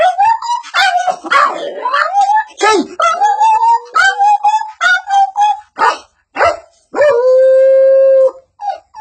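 A performer vocally imitates two dogs fighting over rice, producing a loud close run of growls, yelps, whines and howls in uneven bursts, ending in a sustained drawn-out howl.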